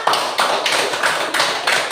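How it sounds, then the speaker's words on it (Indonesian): Classroom group applause, several hands clapping in quick rhythmic bursts, close and fairly loud, with no talk over it. "tepuk tangan dong kita semua"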